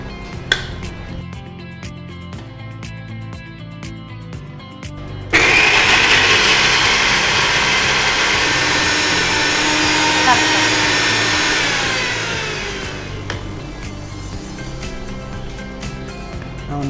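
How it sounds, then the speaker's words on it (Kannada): A mixer grinder runs dry on green peas, green chili and ginger for a coarse grind, starting with a loud whirring roar that holds steady for several seconds and then winds down. Before it starts there is quieter kitchen sound with some talk. "ಇದನ್ನು ಸ್ವಲ್ಪ ತರಿಯಾಗಿ ಗ್ರೈಂಡ್ ಮಾಡ್ಕೊಳ್ಬೇಕಲ್ಲ"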